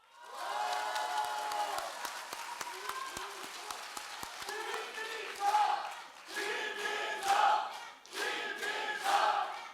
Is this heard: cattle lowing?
no